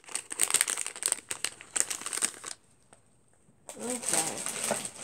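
Scissors cutting open crinkly packaging in a February Akibento unboxing: loud, close crackling and snipping in dense bursts, a brief near-silent pause, then more crinkling while a person speaks over it.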